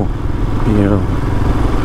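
Royal Enfield Himalayan motorcycle riding over dirt and gravel, its engine a steady close drone with some clatter beneath someone talking throughout.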